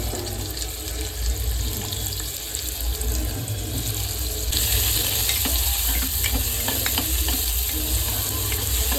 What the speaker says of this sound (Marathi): ते आपण डायरेक्ट फोडणीमध्ये टाकूया